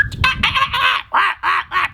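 A storyteller's voice imitates birds honking, a quick run of nasal goose-like honks repeated in a loose rhythm, loud and close, with no other talk.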